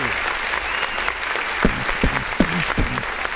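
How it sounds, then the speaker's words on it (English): Steady applause from a small audience fills the whole stretch, a dense patter of clapping at even loudness with a few sharper claps standing out near the end. "Let's give her a round of freaking applause."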